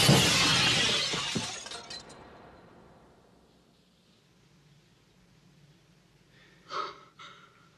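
A glass table shatters in a loud burst of breaking glass that rings and scatters for a couple of seconds before fading into quiet, followed by a brief sharp gasp or breath near the end.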